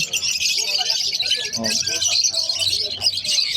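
Parakeets chirping at a busy pet market, a dense wash of bright high chatter that continues throughout, with a voice talking faintly beneath.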